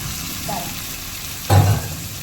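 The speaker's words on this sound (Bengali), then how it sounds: "এবার আমি এর মধ্যে কাঁচা চিকেনটা দিয়ে দেবো।" Raw chicken goes into fried spice masala for a dhaba-style village chicken curry, setting off a short, loud burst of sizzling over a steady background frying hiss.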